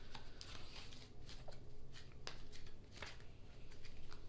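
Tarot cards being gathered and handled for a reading, a close, dry series of irregular papery flicks and shuffling riffles with soft rustles between them.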